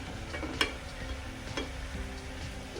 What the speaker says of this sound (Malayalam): എന്നിട്ടൊന്ന് പച്ചമണം മാറുന്നവരെ ഇളക്കി കൊടുക്കുക.